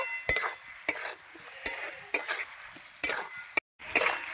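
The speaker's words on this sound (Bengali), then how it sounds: "এই যে আলুর সঙ্গে মশলাটা কষাচ্ছি আমি আর একটু ভালো করে কষিয়ে নেব" Potatoes fry with spices in a pan for a Bengali fish curry, with a hissing sizzle broken by several loud metal scrapes and clinks of stirring, spaced about half a second apart.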